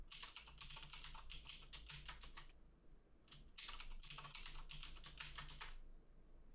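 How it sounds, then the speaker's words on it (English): Rapid keystrokes on a computer keyboard entering a password, two bursts of steady clicking separated by a short pause, close and clear with no talking. "So we type the root password that we want."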